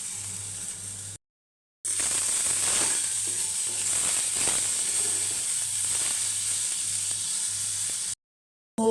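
Tomato pieces with salt and turmeric sizzle steadily in a pan for chutney, a close, even hiss with faint scraping, briefly cut by silent gaps at the start and end.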